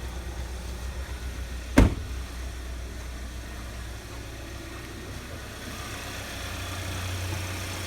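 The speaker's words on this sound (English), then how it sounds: "you have an inline four-cylinder engine here, very efficient" The inline four-cylinder engine of a 2016 Hyundai Santa Fe Sport idles steadily under an open hood as a low, even hum. A single sharp click sounds early on, and the engine note rises slightly toward the end.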